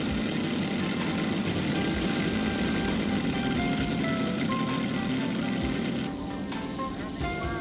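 A 7-cylinder Seidel 4-stroke radial aircraft engine on a scale model plane at a flying competition, droning loud and steady for the whole stretch, easing slightly in level near the end.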